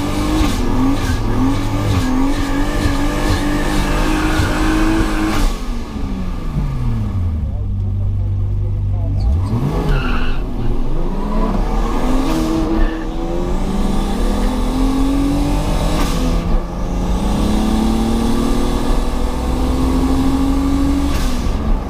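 Engine of a BMW drag racing on a quarter-mile strip, heard from inside the car, revving hard and climbing through gears with loud, continuous roaring and shifting pitch, while people talk over it.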